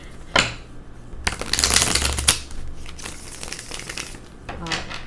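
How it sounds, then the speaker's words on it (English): Tarot cards are shuffled by hand in a few quick riffling bursts, close and crisp, with short pauses between the shuffles. "One more shuffle."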